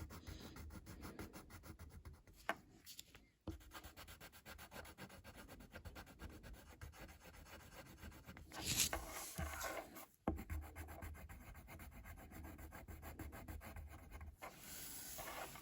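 A brown pen scratches and rubs across paper while drawing Frosty the Snowman's corncob pipe, a faint, close, continuous scraping with a few brief pauses.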